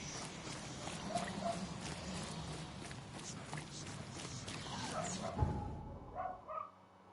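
A dog barks repeatedly in the video game The Sinking City, a run of excited yaps and whimpers mixed with footsteps, moderately faint and fairly busy before the sound cuts out near the end.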